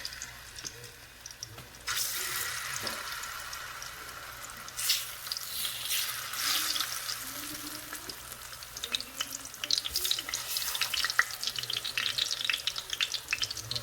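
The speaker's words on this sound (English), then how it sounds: "now we can get started with this plantain frying" Oil sizzles and crackles loudly and steadily as plantains fry in a pan nearby. There are occasional clinks and stirring sounds, and no one speaks.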